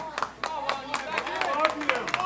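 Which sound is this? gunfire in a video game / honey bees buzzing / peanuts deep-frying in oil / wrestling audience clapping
wrestling audience clapping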